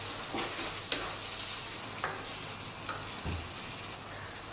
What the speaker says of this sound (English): we're going to add a couple of heaped tablespoons of Tikka Masala powder, and we're going to stir that through to cook that out